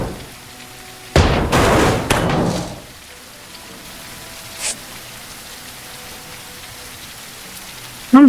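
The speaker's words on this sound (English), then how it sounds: "I genuinely don't remember hearing rain in this game." Rain in the video game Ship Graveyard Simulator 2, a loud burst of rain-like hiss lasting a couple of seconds, then a quiet stretch with a brief faint patter and a sharp sound at the very end.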